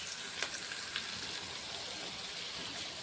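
Eggs frying with spinach in oil in a pan make a dense, steady sizzle up close, with a couple of faint clicks in the first second.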